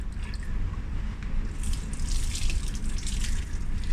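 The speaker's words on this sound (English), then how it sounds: "then just rinsing it with water and see how effective" Water runs steadily over a brake caliper to rinse off wheel, rim and caliper cleaner, giving a continuous close splashing and trickling rush that lasts throughout with no voices.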